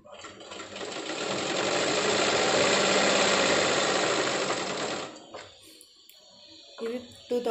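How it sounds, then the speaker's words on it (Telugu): Sewing machine stitching a dress seam, a loud, close, rapid rattling hum that builds and runs steadily for about five seconds, then stops, followed by faint handling noises. "రెండుసార్లు వేసేస్తున్నాను కుట్టు"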